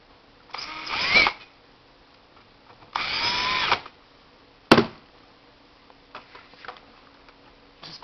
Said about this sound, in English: which I'm going to screw in place because then it won't move once I put the pressure on in the vise